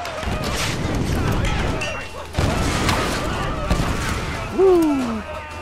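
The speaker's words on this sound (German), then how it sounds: "Ist doch immer schön, wenn alles explodiert und brennt." Explosions and burning fire in a Tomb Raider forest scene, a steady roar of flames with repeated booms and crashes throughout, and a brief whistling sweep near the end.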